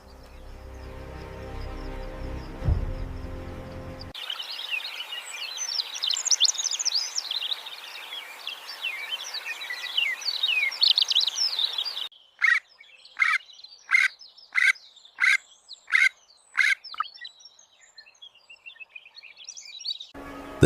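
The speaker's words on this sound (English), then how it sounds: "Did the oxpecker sound the alarm to save the giant?" An oxpecker on the African savanna beside a rhino gives sharp alarm calls: a stretch of busy, scratchy chattering, then a rapid series of about eight loud, evenly spaced harsh notes, with no other sounds behind them.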